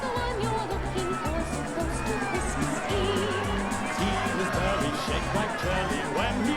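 A crowd cheers for Santa's float at the 1993 Holidazzle holiday parade on Nicollet Mall, a steady roar of many voices mixed with a rhythmic musical beat throughout.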